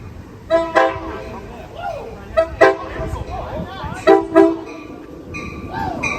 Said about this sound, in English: good horn salute from the cab car operator